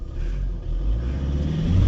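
A truck engine revs hard and steadily while trying to haul an empty bee hive trailer, a loud, continuous low rumble that builds slightly toward the end with no talk over it.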